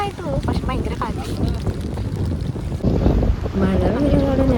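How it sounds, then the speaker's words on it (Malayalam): Strong wind buffets the microphone at Puthuvype beach in light rain, a loud continuous rumble with gusts, and voices talk over it throughout. "നല്ല കാറ്റ്, അടിപൊളി കാറ്റ്. മഴ ചെറുതായിട്ടുള്ളൂ, പക്ഷെ ഭയങ്കര കാറ്റ്."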